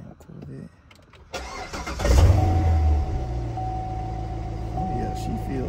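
A Corvette engine cranks and catches, then settles into a loud, steady idle close by, with people talking over it.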